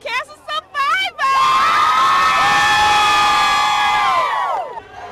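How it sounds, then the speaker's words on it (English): Crowd at a cancer charity walk cheering and shouting loudly in a sustained, high-pitched roar after a few brief calls, fading near the end. "there is a lot of energy and a lot of cheering on cancer survivors and families"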